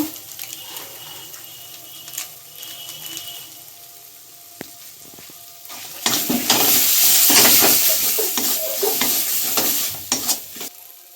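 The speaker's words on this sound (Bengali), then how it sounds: "বেটে রাখা মশলার জল, এরকম ভালো করে কষিয়ে নিচ্ছি।" Ground spice paste with its water being sautéed in a pan for a fish-head, pumpkin, potato and cabbage curry, starting as quiet stirring and then bursting into loud, continuous sizzling with scraping strokes up close.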